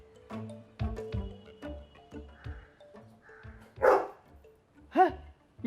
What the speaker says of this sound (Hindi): है ये क्या? कुत्ता?